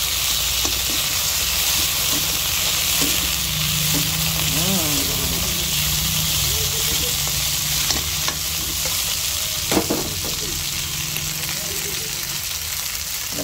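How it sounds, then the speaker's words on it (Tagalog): Onion and garlic sautéing in a pan, a loud continuous sizzle close by with intermittent spatula scrapes and clinks as the aromatics are stirred. "Ay, bango talaga sa nag-igisa ka ng sibuyas."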